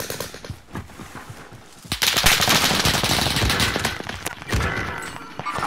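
Gunfire in Call of Duty Warzone, with single-fire shots cracking one after another, sparse and quieter at first, then a dense, loud run of rapid reports that continues to the end.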